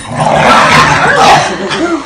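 Several dogs scuffle and snarl in a short, dense burst of yips, growls and barks, loud and close, with a person shouting over the commotion.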